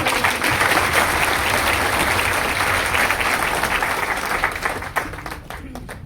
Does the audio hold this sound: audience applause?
yes